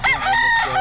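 A rooster crows loudly and close by, one sustained call among chickens offered for sale, with a faint voice briefly underneath.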